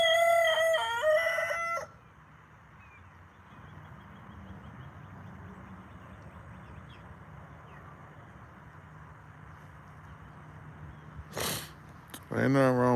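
A rooster crows loudly and close by inside a chicken coop, one long harmonic call opening the recording. A low hum and quiet farmyard murmur follow, then more loud, abrupt bursts of sound near the end.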